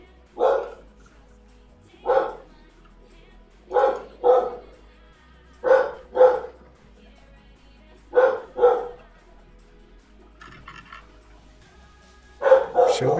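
A dog barks close and loud indoors in repeated bursts of single and double woofs spaced a couple of seconds apart, with a short quieter pause near the end before one last bark.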